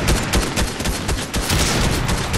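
Fortnite gunfire rattles in a sustained volley of loud, closely spaced shots, some sounding like automatic bursts, continuous and near at hand with no voices over it.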